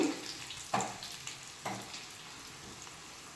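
Garlic fries in a pan for a home-cooked dish, giving a steady close sizzle broken by a few sharp stirring scrapes.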